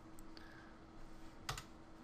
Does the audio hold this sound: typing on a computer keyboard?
yes